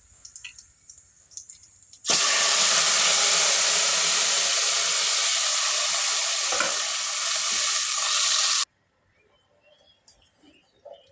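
Mustard seeds, cumin, a little fenugreek, dried red chilies and curry leaves sizzle loudly in hot oil in a pan for a Telugu bottle gourd pulusu, a sudden steady crackling hiss that holds for about six seconds before cutting off, with light stirring.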